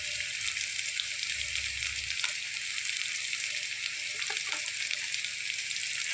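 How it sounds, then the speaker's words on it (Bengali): Ginger garlic paste sizzles steadily in hot oil left over from frying Bhola fish, a loud, continuous hiss of frying close to the pan with a few faint clinks partway through. "এবার ওই তেলের মধ্যে দিয়ে দিচ্ছে মামনি একটু আদা রসুনের পেস্ট।"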